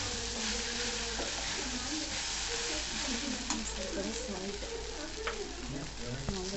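Idli pieces stirred and fried in a pan with oil for idli upma, a steady close sizzle running throughout with occasional scraping stir clicks from a spoon.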